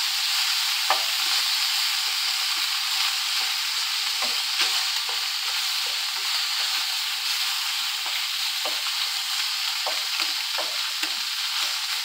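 Octopus fries in a pan, a loud, steady, hissing sizzle close by, with light scrapes and taps as it is stirred throughout and no talking.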